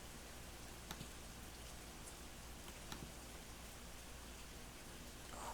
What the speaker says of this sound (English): I don't know if you can hear that rain or not, but it's loud.